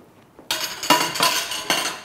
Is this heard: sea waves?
no